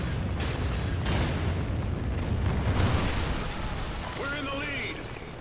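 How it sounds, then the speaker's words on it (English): A Trinity rocket strike explodes in a Drop Zone match of a shooter video game, a sustained, rumbling blast that fills the whole stretch while a voice speaks over it. "Friendly Trinity rocket inbound."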